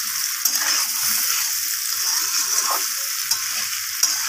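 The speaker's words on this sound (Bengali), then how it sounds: "লবণ, হলুদ আর আলুটাকে ভালো করে মিশিয়ে নিয়ে আমি লাল লাল করে একটু ভেজে নেব আলুটাকে" Potatoes coated in salt and turmeric frying in hot oil, with a loud, steady close-up sizzle and a few light scrapes as they are turned.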